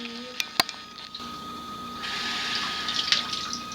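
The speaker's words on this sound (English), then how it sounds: "I've headed over to the sink, get myself some water" Kitchen sink tap running water into a container, a steady close rush with a few small clinks at the start and the flow growing fuller partway through.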